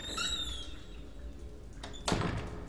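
A door swinging open in the horror game Cry of Fear, a single close thunk and creak rising out of a low, steady rumbling ambience near the end.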